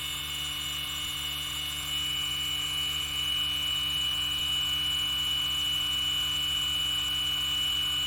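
A drive motor spinning a stepper motor used as a high-voltage DC generator gives a steady electrical hum with a sustained high-pitched whine, constant and close, swelling slightly partway through.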